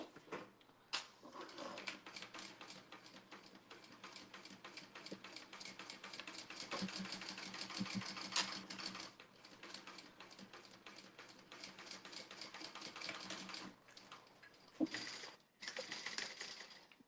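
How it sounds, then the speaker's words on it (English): A sewing machine stitches two layers of fabric together for a small wallet, running in a steady, rapid mechanical patter at low volume with a few brief pauses and clicks. "I was sewing my 2 layers together"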